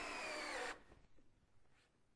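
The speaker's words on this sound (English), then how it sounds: "And here's a traditional screw going into AZEK decking." A traditional screw is driven into AZEK composite decking with a power drill, a loud close whirring burst lasting under a second that cuts off abruptly, leaving faint room noise.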